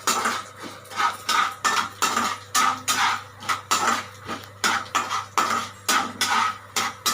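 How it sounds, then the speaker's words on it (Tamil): Urad dal and dried red chillies roast in a dry pan for chutney, heard as a steady rhythmic series of spoon scrapes and clinks against the metal, close and even, with no talk. "இப்போ உளுந்து நல்லா பொன்னிறமாக வர அளவுக்கு நம்ம நல்லா வறுத்துடலாம்."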